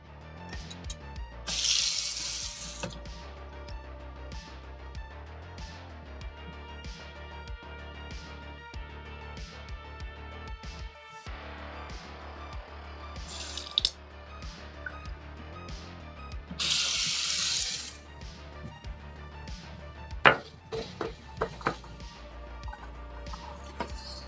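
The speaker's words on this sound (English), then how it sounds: "you guys get the pleasure of listening to me fill up cups in the bathroom" Water runs from a bathroom tap into cups being filled, with bursts of gushing flow starting and stopping between quieter stretches, plus light clinks and taps of the cups nearby.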